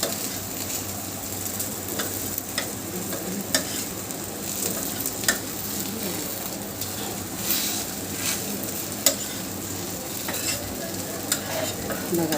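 Thalipeeth, a flat savoury snack, sizzles steadily in a hot pan while being turned over, with occasional sharp scrapes and taps of a utensil against the pan over the continuous frying hiss.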